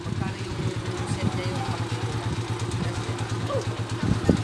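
An old motorcycle engine idles with a steady low throb and even rhythm, close and fairly loud throughout, while someone talks over it.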